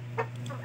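A Shamo Aseel hen gives a single short cluck over a steady low hum, a brief close call followed by faint softer noises in a backyard setting.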